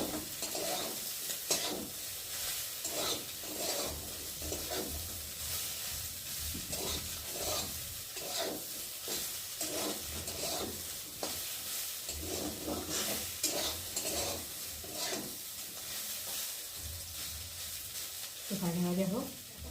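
Soybean chunks sizzle in hot oil in a pan while a spoon stirs and scrapes them in repeated strokes, a close, steady fry with brief louder scrapes near the end.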